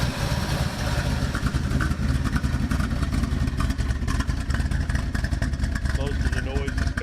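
Close, loud steady idle of a 1976 Ford Ranchero 500 engine with leaky band-clamped 4-inch exhaust, a continuous rough rumble and clatter filling the whole stretch.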